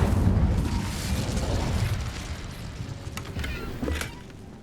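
Incendio fire spell cast in Hogwarts Legacy, a whooshing burst of flame that swells loudly at the start and roars steadily before fading, with a brief crackle near the end.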